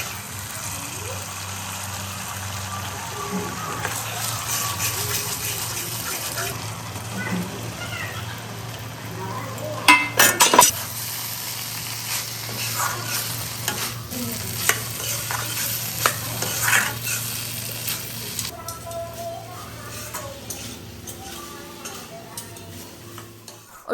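A vegetable curry with curd is stirred and cooked in a pan, giving continuous spoon scraping and soft sizzling, with a loud clatter midway and faint background noise throughout.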